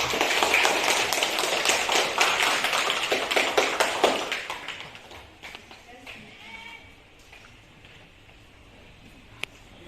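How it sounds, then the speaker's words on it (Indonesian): A classroom audience claps for a student group after their presentation, a dense burst of hand claps for about four seconds that thins and fades into quieter room noise. "Kita berikan aplaus kepada kelompok 3."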